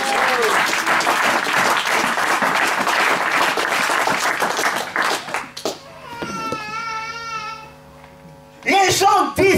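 A church congregation at an evening revival service applauding and cheering for the Lord, loud dense clapping for several seconds that fades, followed by a preacher's voice and a renewed swell of noise.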